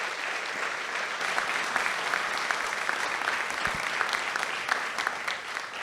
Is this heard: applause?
yes